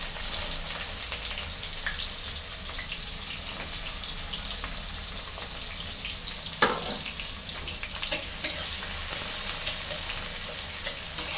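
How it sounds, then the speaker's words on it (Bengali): Onions frying in a pan for a spiced chicken dish make a loud, continuous close-up sizzle, with a couple of sharp clinks from the utensil partway through. "ভালো করে পেঁয়াজগুলো লাল লাল করে ভেজে নেবো।"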